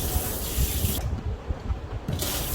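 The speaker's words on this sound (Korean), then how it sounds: "고기 손질하고는 도마 깨끗하게 헹궈 주셔야 돼요." Running water rinses a cutting board after raw meat prep, a close steady hissing spray that briefly cuts off before resuming.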